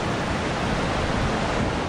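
Large sea waves break along the Sangay coast of Camarines Sur during a storm, a dense, continuous roar of surf with no pauses, loud and close.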